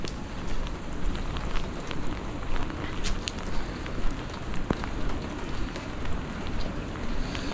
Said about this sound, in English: But today it's like 45 degrees, cold rain.